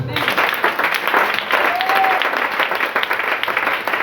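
Church congregation applauding and cheering in acclamation of God during a French-language prayer service, a steady, loud wash of clapping that fills the whole stretch with a few voices calling out over it.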